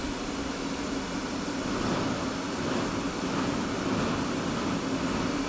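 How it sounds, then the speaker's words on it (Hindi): An F-16C jet engine spooling up during a cold-and-dark start in the DCS flight simulator, a steady loud turbine roar with a high whine held throughout, no voices. "जैसे ही JFS स्विच स्टार्ट 2 पोजीशन पे आएगा, engine spool up process start हो जाएगा।"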